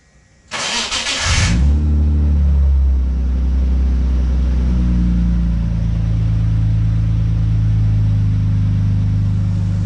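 A BMW E36 convertible engine cranks with a brief loud whine, catches, and settles into a loud, steady, rumbling idle close by.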